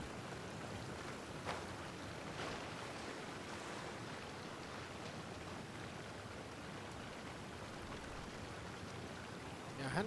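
A waterfall in the game Genshin Impact hisses as a steady, soft, even rush of falling water, continuous for about ten seconds with a few faint bumps and a short louder burst at the end.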